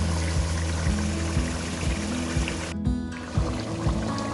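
Thick yogurt poured into a pan of frying whole spices (dry coriander, cumin, black pepper) for white chicken handi, giving a steady, moderately loud pouring and sizzling wash with a short dip partway through.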